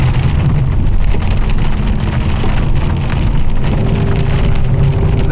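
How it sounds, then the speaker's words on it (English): Steady heavy rain, with hail mixed in, drums loudly and continuously on the roof and body of a moving Firebird car, a dense, unbroken patter over a low road rumble, with no talk. "Nah, you gonna keep raining on me?"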